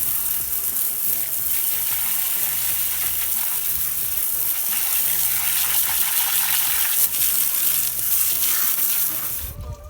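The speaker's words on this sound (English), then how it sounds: "Let's hose it off now." A steady, loud spray of water hisses and splashes continuously as a hose is aimed at a car wheel nearby, cutting off at the end.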